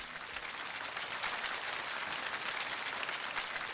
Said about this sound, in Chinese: 再次把掌声送给高院长